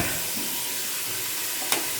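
Masala frying in oil in a pan on low heat, giving a steady soft sizzle and hiss with one brief sharp crackle near the end.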